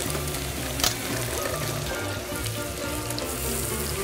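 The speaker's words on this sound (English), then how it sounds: "I'm gonna go ahead and start browning off the sausages" British bangers sizzle as they brown in a frying pan, a steady close crackle and hiss with a brief sharper spatter near the start.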